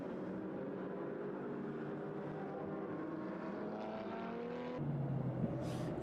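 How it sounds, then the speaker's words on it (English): Race car running on the Barcelona circuit during a winter series round, a steady engine drone with rising and falling harmonics as it approaches, then a sharper shift in pitch near the end. "let's watch the car and perhaps listen to the car a bit as well, see if we can pick up on anything"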